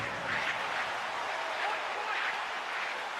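Home crowd in an ice hockey video game booing a player, a steady, dense crowd roar that holds at even loudness without breaks.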